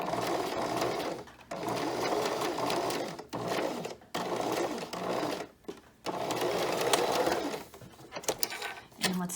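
A sewing machine runs a seam on a knit dress in repeated bursts of fast, steady whirring and clatter, separated by brief pauses.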